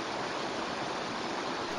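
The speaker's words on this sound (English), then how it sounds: "The water falling onto the wheel and into buckets built into the rim allows the wheel to turn" Water pours steadily onto the buckets built into the rim of the Laxey Wheel, a large water wheel turning in reverse, making a continuous broadband rushing wash with no breaks or voices.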